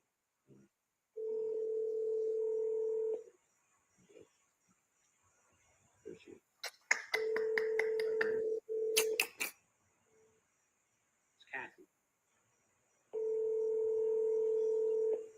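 A telephone call ringing out before reaching voicemail: two long steady ringback tones separated by a gap of clicks, short beeps and a brief voice, then another long tone, heard clearly through the phone line.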